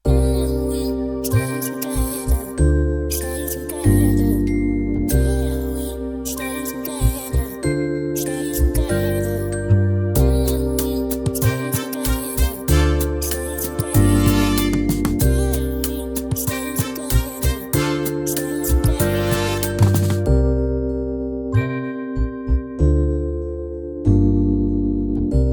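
A vintage R&B sample sped up from 120 BPM plays steady music with bright, slightly pitched-up tones and a full low end. It continues for about twenty seconds, then thins into sparse sustained notes near the end.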